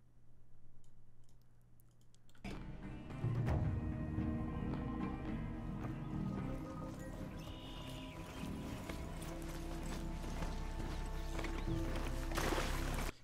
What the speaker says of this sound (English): you start hearing the horse gallop